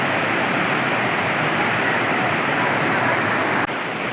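Water from a canal bypass gushes hard after a hydro turbine tripped during a grid failure, a loud, steady roar of rushing water with no break that dips slightly near the end.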